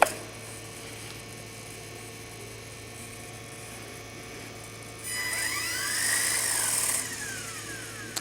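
Small electric motor of an RC helicopter in normal flight mode, a steady faint whine that surges up into a louder rising whir for a couple of seconds before settling back.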